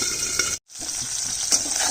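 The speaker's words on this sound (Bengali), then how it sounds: "মাছটা ঢেকে ঢেকে ভাজবো, কেন কি খুব ফাটছে।" Pabda fish frying in hot oil, crackling and spattering hard. Continuous close sizzling with sharp pops breaks off for a moment, then resumes at the same level.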